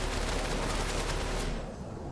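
Gunfire in the tactical video game MENACE, a fairly quiet, dense burst of rapid shots lasting about a second and a half before cutting off into softer background sound.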